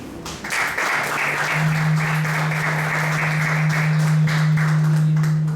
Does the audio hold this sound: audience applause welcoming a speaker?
yes